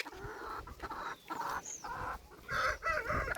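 Chickens on a goat and poultry farm clucking and squawking in short repeated bursts, close and fairly clear, with faint farmyard background.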